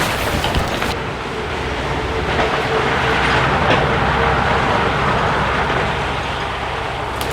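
Car driving along an overgrown village road in the Chernobyl exclusion zone, a broad, rushing roadway noise that swells and lingers as it moves past, fairly loud and heard without talk.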